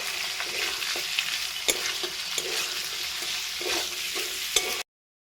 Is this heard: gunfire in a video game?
no